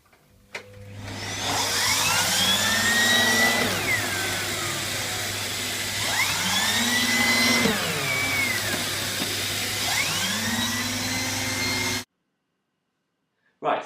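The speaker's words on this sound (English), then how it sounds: "we've got the Turbo Universal adapter, which I'm going to be using on the stairs today" A Bosch BSG8PRO1GB vacuum cleaner fitted with a Turbo Universal adapter runs on carpeted stairs over scattered salt, a loud steady motor drone with repeated rising and falling whines as the head is pushed and pulled, then it cuts off abruptly.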